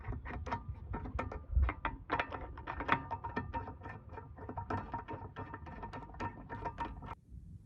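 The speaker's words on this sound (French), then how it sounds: "on procède au serrage en croix, c'est-à-dire qu'on va à chaque fois visser un petit peu le boulon qui se trouve en face" A hand ratchet clicks in quick repeated bursts while wheel bolts are snugged down in a cross pattern during a shock absorber replacement on a Peugeot 807, the close metallic ticking running steadily throughout and stopping just before the end.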